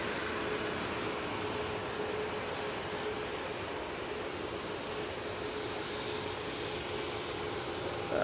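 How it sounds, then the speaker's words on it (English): A TUI Boeing 737 MAX 8 airliner moves onto the active runway at Manchester Airport, giving a steady, distant broadband jet roar that holds at an even level throughout. "TUI 737 MAX 8 now coming on to the active runway."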